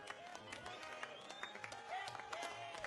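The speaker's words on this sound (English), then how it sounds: "A large number of guests from the bride's side cheer and whistle excitedly" Wedding guests on the bride's side cheer and whistle excitedly in a crowd, a continuous mass of cheering voices with scattered clapping and rising whistle-like tones, fairly faint and distant.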